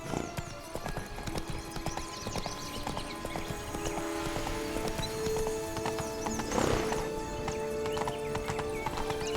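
Roach, a horse in The Witcher 3, trots with a steady clip-clop of hooves over background game ambience and a brief neigh partway through. The hoofbeats are close and continuous.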